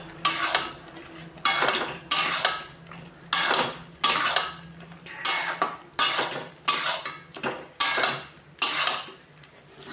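Soybean chunks stirred in a cooking pan, a steady rhythm of close, scraping clatters from the spoon against the pan, about one stroke each second, with a faint sizzle in the gaps.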